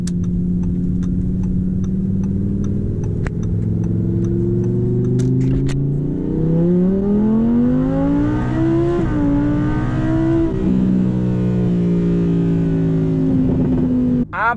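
A straight-piped Audi R8 V10 Plus accelerates hard in performance mode, its loud, close engine climbing through several gears in rising sweeps with brief shift dips, then a final surge, with no talking.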